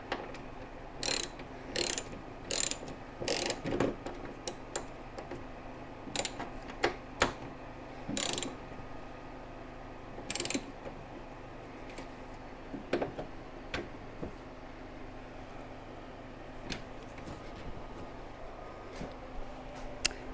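A hand ratchet tightens a radiator fitting on a C3 Corvette, giving bursts of sharp clicking strokes in irregular groups over a steady low background hum, close by and fairly quiet, with no talking.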